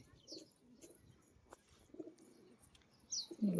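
Soft pigeon coos repeat in short low bursts, with a few chirps and faint fluttering around them, growing louder and closer at the end.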